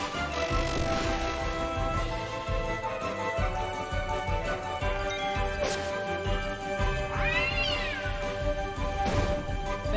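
Small cat creatures meowing in Final Fantasy IX, repeated short mews over steady game music, with one rising and falling cry standing out near the end.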